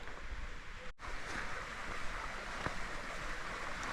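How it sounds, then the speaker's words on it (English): A small creek along Porters Creek Trail in the woods runs with a soft, steady rush of water, faint and continuous, with a brief dropout near the start. "And you got this cool little creek crossing, which is neat."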